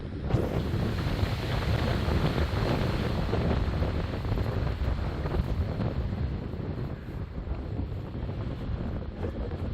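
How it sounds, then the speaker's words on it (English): Strong wind roars across an exposed hillside in a desert wilderness area, a loud, unbroken rush buffeting the microphone throughout with no voices. "Just a hurricane out here today. The wind coming around that corner."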